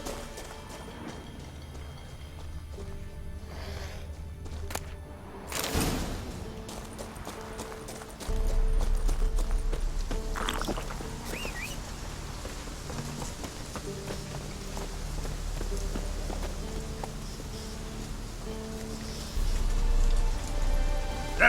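In The Witcher 3, the horse Roach trots along with steady rhythmic hoof clip-clops, loud and close, over a soft rain-like ambient wash, with a brief sharp impact partway through.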